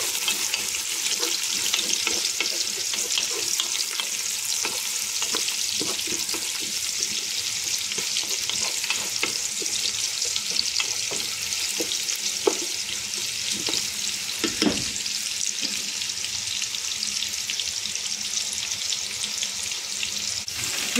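Garlic, onion and ginger sauté in a hot pan with a steady, loud sizzle throughout, broken by occasional scraping stirs and light clatter.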